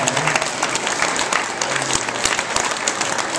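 Loud, close applause from children at a school assembly, a busy crackle of many hands clapping at once with murmured voices mixed underneath.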